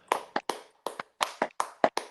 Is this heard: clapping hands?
yes